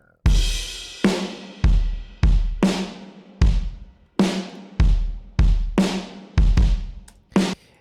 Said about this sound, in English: I use addictive drums